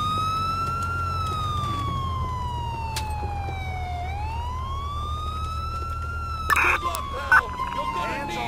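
A police car siren in Grand Theft Auto IV wails in a slow, steady rise and fall, fairly loud over game background noise, with a short burst of other sounds near the end.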